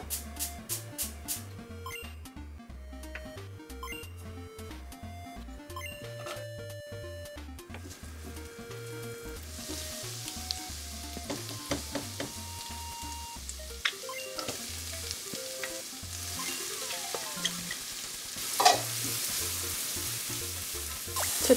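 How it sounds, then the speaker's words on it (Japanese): Butter rice sizzling in a pan on a home kitchen stove, a steady crackling fry that builds and grows louder, with occasional clinks and scrapes from stirring. "今からバターライスを作っていきます。"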